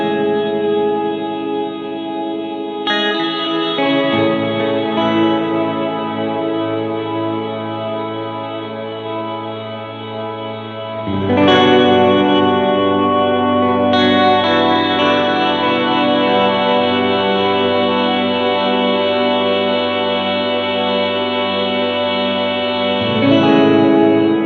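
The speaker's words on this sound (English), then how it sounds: "the Duophony is just controlling the dark world reverb and the synesthesia" An electric guitar played through a Duophony pedal that controls Dark World reverb and Synesthesia effects rings out in long sustained chords with washy reverb, chorus shimmer and a crushed octave-up tone, shifting chords a few times, loud and without talk.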